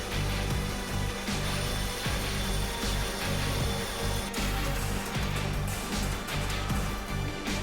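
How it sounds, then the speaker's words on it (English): Coil springs for large vehicles and valves are ground to length with special grinding stones in a factory, making a dense, continuous abrasive roar with rhythmic mechanical clatter underneath, loud and close with no voices. "Springs used, among others, in large vehicles or valves are additionally grinded using special stones"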